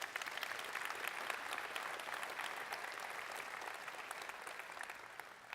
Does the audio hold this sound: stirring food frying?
no